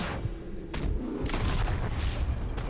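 Dense, sustained gunfire and booming shots in a Red Dead Redemption II shootout, loud and continuous with heavy low rumble and a few sharp bursts standing out.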